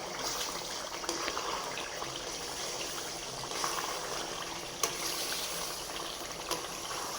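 Garlic thokku with tamarind water and jaggery simmers in a pan, giving a steady close bubbling hiss with faint soft pops throughout.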